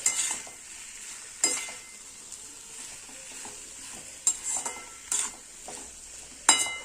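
Vegetables stir-frying in a pan give a soft steady sizzle, punctuated every second or so by sharp metallic scrapes and clacks of a utensil against the pan.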